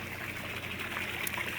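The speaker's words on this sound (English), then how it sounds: "you can literally see the pressure, the flow of the water coming out" Water streams steadily out of a pool filter return jet, a continuous near hiss and trickle with no break and no voices.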